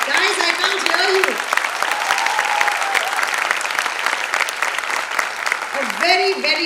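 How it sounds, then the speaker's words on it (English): A large audience at a Republic Day event breaks into sustained, dense applause with crowd noise, while a voice speaks over the clapping at the start and end. "Huge round of applause for us"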